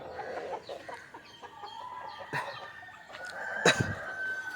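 A rooster crows in the distance amid scattered clucking and other farmyard bird calls from native country chickens, fairly faint with no talking.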